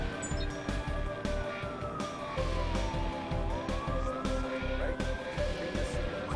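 Police car sirens wail behind a fleeing car during a chase in the video game Watch Dogs, the rising and falling tone sweeping steadily over engine rumble and traffic noise.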